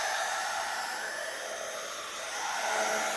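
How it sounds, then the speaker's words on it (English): A heat gun blows steadily over freshly painted doodle backgrounds, a continuous airy, fan-driven whoosh that holds close and loud for the whole stretch with no talk. "It's more or less dry, so I'm going to go in with my heat gun again."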